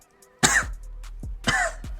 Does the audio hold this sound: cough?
yes